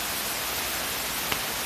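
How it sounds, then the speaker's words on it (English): Heavy rain pours down outdoors as a steady, loud, broadband hiss that runs without a break from start to end, with no voices. "and then it started pouring down rain"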